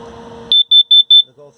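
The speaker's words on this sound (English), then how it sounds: "This is your carbon monoxide and LP gas detector." A speaker's voice is cut off by a piercing high electronic chirp, then three loud evenly spaced beeps from a carbon monoxide and LP gas detector alarm running a self-test in a 2017 Clipper 1285SST camper, followed by brief soft tones.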